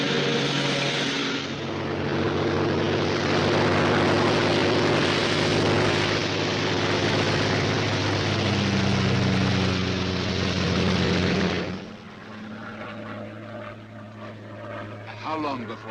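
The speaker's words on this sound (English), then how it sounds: "a Royal Air Force plane is waiting for us at a secret landing place" A Royal Air Force propeller plane drones loudly and steadily in flight for about twelve seconds, then the engine roar drops away to a quieter hum.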